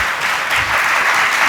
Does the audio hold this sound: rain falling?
no